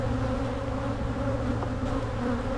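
Honeybees drone steadily in an opened hive brood chamber during a colony split, a dense continuous buzz close by with no talking.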